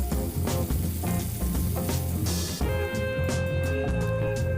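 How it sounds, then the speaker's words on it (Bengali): Pieces of pointed gourd frying in hot mustard oil, a steady crackling sizzle that holds close and fairly loud throughout, with no one talking. "এর মধ্যে পটলগুলোকে ধীরে ধীরে ছেড়ে দিচ্ছি ভাজা হওয়ার জন্যে"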